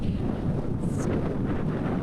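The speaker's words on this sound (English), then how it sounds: "there's one of the big gusts" Strong hurricane-force gust during Hurricane Fiona, a loud continuous roar of wind battering the microphone throughout, dense and unbroken.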